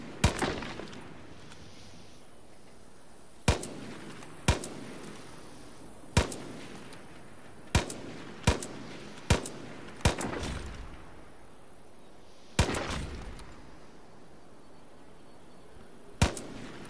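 Gunfire in the first-person shooter Far Cry New Dawn: single sharp shots spaced irregularly, about a dozen over the stretch, each loud and crisp with a short decaying tail, no voices over them.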